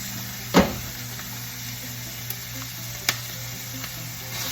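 Tomatoes added to a frying pan for sarciadong isda, one sharp clatter at the start and then a few faint knocks over a soft, steady sizzle.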